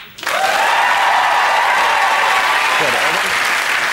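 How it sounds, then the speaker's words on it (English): A studio audience at the comedy panel show Never Mind the Buzzcocks bursts into loud, sustained applause that starts abruptly and holds at full strength for several seconds. "Those are the teams. Let's now applaud them."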